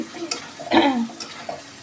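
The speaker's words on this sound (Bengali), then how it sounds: "এক হাত দিয়ে নাড়তেছি কারণ এটা একটু সরে যাচ্ছে" Meat frying in a little oil in a karahi, stirred by hand with scraping strokes and a brief louder sizzle burst midway, close and without talk.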